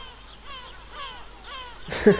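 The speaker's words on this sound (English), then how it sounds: "I believe we also have seagulls that will play." In-game seagull sound effects play as a series of faint, repeated mewing calls over a quiet background, followed by a short louder thump.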